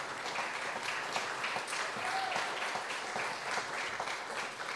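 A church congregation applauds, a soft, even rush of many hands clapping at a distance, sustained through the whole stretch with no distinct voices.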